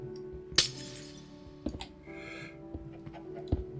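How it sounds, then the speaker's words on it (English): A piece of glass breaks in a video game: a sharp shattering crash with bright splintering fragments, followed by a few scattered clinks and clicks over a steady low ambient hum. "I'm gonna have to break a piece of glass,"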